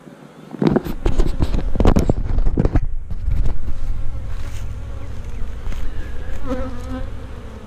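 Honeybees buzz densely around a hive, a loud, steady swarming drone close by, with a few louder rustling bursts early on and no talking.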